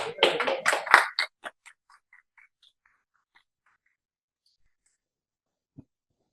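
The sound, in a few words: audience applause at a panel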